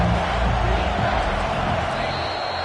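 A dense, steady roar from a football stadium crowd with no breaks, loud and diffuse, with low thumps underneath.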